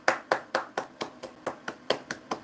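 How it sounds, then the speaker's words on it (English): About ten sharp hand claps ring out at a steady, fairly quick rhythm, each one crisp and distinct, from a single person during a live stream, with no talking over them. "Let's give a hand clap for that."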